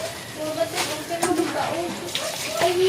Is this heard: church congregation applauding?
no